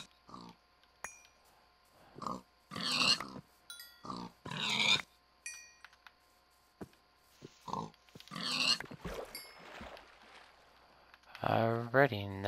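Pigs grunt in a video game, with short bursts of oinking scattered across the scene among other clicks and game sounds, fairly close and moderately loud.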